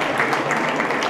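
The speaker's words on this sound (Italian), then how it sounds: "Grande applauso, professore." Applause for a professor receiving a women's award at the December 2018 Premio Donne by Carpisa ceremony. Dense, steady clapping from an audience fills the whole moment at close, even loudness.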